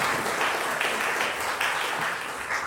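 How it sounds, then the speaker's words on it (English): Audience applause at a San Antonio city council runoff debate, a continuous wash of many hands clapping in a large room, steady for the whole stretch. "You can applaud here as well."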